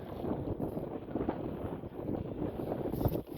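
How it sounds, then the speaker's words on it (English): Steady, heavy wind rumbling and buffeting across an open microphone, with low roaring gusts throughout and no voices. "This wind is crazy"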